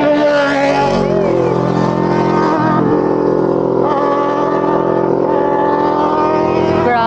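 Motorcycle engines on a steep mountain road, loud and close, a steady harmonic roar with rising and falling pitch that swells and shifts as the bikes pass.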